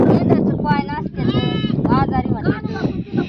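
Several sheep bleat close by in overlapping wavering calls, one after another, with a little wind noise in the background.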